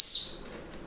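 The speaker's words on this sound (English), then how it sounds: "So you're going to blow the whistle." An Acme 211.5 dog whistle gives one short, shrill, very high tone up close, loud at first and quickly fading into near quiet.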